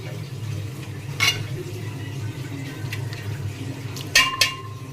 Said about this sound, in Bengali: আর এখানে হচ্ছে লাউ চিংড়ি রান্না করছি।